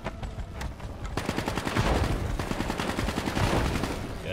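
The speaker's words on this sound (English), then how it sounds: "Stop shooting at me." Rapid automatic gunfire in the Call of Duty Black Ops 3 campaign, a dense run of closely spaced shots after a few scattered single cracks, fairly loud and steady, with no talking.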